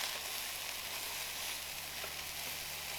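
Beef and lamb Afghan-style kafta kebabs sizzle steadily on a hot cooking surface, a soft continuous frying hiss with faint crackles and no clear flipping sounds or speech.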